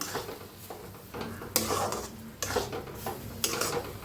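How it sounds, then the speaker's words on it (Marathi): A jaggery mixture being stirred in a pan, with quiet scraping strokes and several sharper clinks of spoon on metal over a faint background sizzle, close and unaccompanied by talk. "तर असं सगळं मिक्स करून घेऊया"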